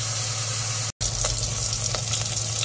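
Chicken pieces for tinola sizzle in their own rendered fat in a pan. There is a steady, bright frying hiss with faint crackles and a momentary cut near the start.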